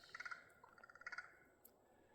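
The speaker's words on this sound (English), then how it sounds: "There's the crows again." Crows caw in a snowy forest: quiet, distant rapid runs of harsh calls in two or three bursts, then a short pause and a faint final note.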